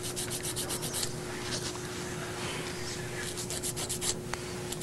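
A nail file rubs back and forth over toenails during a pedicure, a soft rapid scraping in quick bursts, close and quiet over a low steady hum.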